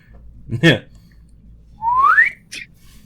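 A short, breathy whistle rises in pitch, followed by a brief second attempt, with a voiced exclamation just before it, fairly close and quiet.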